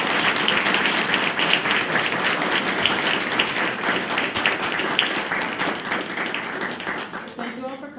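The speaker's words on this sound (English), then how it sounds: "I think they all deserve another round of applause." Sustained applause from a large gala audience at the 2020 Windsor Shad Derby, dense clapping continuing steadily for the whole stretch and beginning to thin toward the end, with some crowd voices mixed in.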